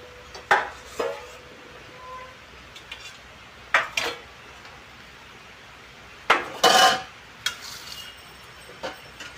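Dishes and cutlery clink sporadically while rice is served at home, a handful of sharp, close clatters spaced a few seconds apart over a quiet room background.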